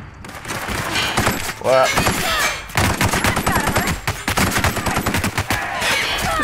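Rapid bursts of gunfire ring out while shooting marauders in The Outer Worlds, dense and loud with a quick reload between volleys, as players talk and react over the shots.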